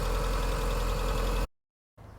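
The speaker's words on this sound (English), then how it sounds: "now the engine's running, that'll just circulate the coolant for a bit" A Mazda MX5 engine idles steadily with a loud, even hum and fine mechanical detail while warming up during a coolant change. It cuts to silence, then a fainter low rumble returns.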